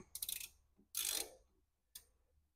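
Factory head bolts on a Magnum engine head are tightened, giving a few short, quiet ratcheting clicks and metallic bursts separated by near silence.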